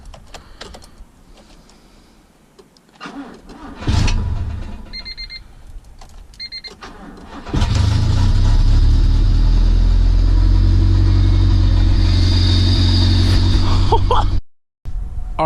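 A Honda engine with no exhaust fitted, cranking after a few faint clicks and clatter, then catching and running loud and raw with a deep, steady roar before cutting off abruptly near the end.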